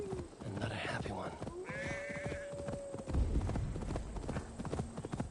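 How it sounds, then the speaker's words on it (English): A distressed sheep bleats in a wavering call amid clip-clopping hooves and ambient sounds in the video game Assassin's Creed Valhalla, with voices talking over the scene. "That sounds like a sheep, and not a happy one."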